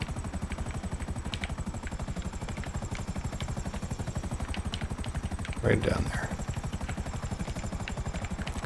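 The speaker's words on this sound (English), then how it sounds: "This helicopter is very fat." A helicopter in GTA Online flies with a steady, fast rotor chop and engine drone throughout, loud and continuous, while someone speaks briefly over it.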